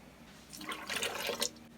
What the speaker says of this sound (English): we're going to go ahead and add our additional broth, which in my particular case is going to be water plus our powder